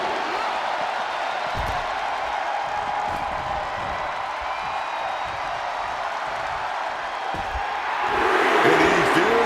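A wrestling arena crowd in WWE 2K26 keeps up a steady roar throughout and swells louder near the end, with a commentator talking over it.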